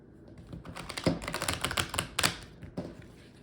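Tarot cards are shuffled by hand in a quiet room, giving quick papery riffling and tapping in irregular bursts, close and fairly soft.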